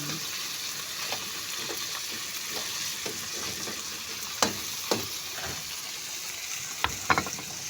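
Shredded cabbage sautéing in a pan gives a steady close sizzle, broken by occasional sharp spatula scrapes and taps, with no voices.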